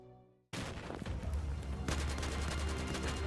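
Sustained automatic fire from an AK-12 assault rifle in Battlefield 4, a loud dense burst that kicks in abruptly after a moment of quiet and keeps rattling on with no voices over it.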